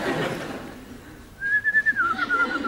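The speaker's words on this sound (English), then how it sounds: "No whistling." A person whistles a short, wavering melodic phrase after a moment of quiet room sound, close and clear, with a few rising and falling notes.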